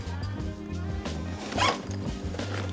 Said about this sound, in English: zip it all back up.